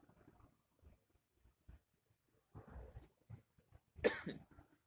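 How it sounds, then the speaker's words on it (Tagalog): A man coughs during a religious talk, several short dry coughs close to the microphone with a sharper loud burst near the end and quiet gaps between them. "Umuubo ako, huwag kayong matakot."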